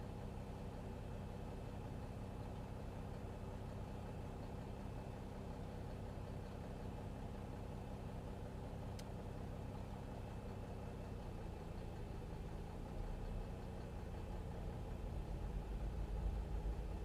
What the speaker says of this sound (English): Starting number 1 engine.